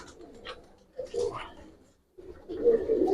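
Giribaz pigeons coo in a loft, a few soft throaty calls close by, broken by a brief pause before louder cooing resumes.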